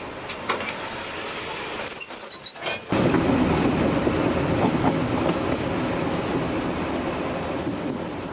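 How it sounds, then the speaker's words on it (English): A train slowly backing along ballasted track, a steady rolling rumble of cars and wheels with faint squeal, continuous and fairly close, briefly quieter before the movement builds and holds. "the train slowly backs up to allow them to climb aboard"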